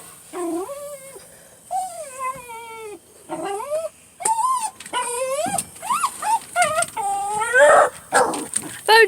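A dog growls, whines and yips in a rising, strained series of close, loud vocal bursts while fixated on a small frog at a window, the noises coming in uneven clusters with brief pauses between.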